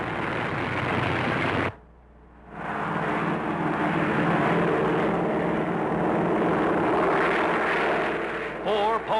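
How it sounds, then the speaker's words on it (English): A 1943 four-engine 'Sky Giant' airliner flying, heard in old newsreel sound as a loud, continuous engine roar that cuts out briefly near the start, then returns and holds steady. "Four powerful engines lift the Sky Giant aloft."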